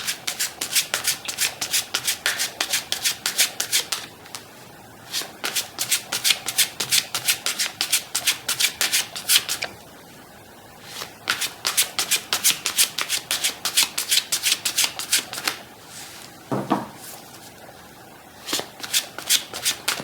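Lenormand fortune-telling cards being shuffled by hand, a close, steady run of crisp riffling bursts with a few short pauses between rounds, no voices.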